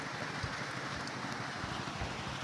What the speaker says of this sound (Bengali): আকাশের যা অবস্থা ওই চার পাঁচ দিন আর বৃষ্টি থামবো না